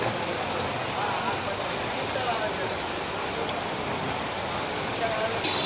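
Steady rain hisses as a dense, even wash of noise, continuous throughout with no breaks, moderately close.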